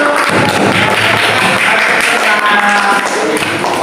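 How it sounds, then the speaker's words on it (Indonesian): Classroom applause for a student group, loud close claps and taps with some thumps, a busy uneven patter with students' voices mixed in throughout. "Tepuk tangan untuk kelompok 1."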